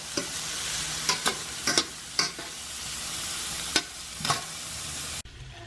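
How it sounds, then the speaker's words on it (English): Onions, carrots and minced garlic sauté in a pan for creamy tomato basil soup, giving a constant close sizzle punctuated by repeated spoon scrapes and taps, then cutting off abruptly, with no voices. "my onions and carrots have been cooking for a few minutes. Now I'm just going to add in my minced garlic"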